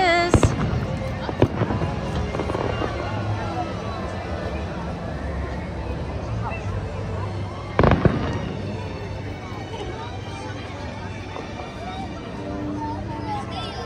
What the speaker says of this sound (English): Everyone's just sitting and trying to enjoy the fireworks.